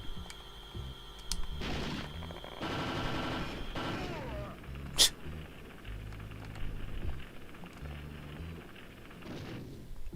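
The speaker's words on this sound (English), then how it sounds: "That was a good bomb toss." Bomb toss explosion in Super Smash Bros Ultimate: a single sharp blast near the middle, set amid a dense layer of game music, clatter and effects.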